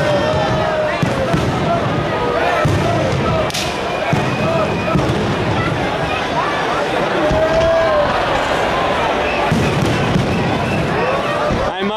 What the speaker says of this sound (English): the fireworks have begun here in Venice, Italy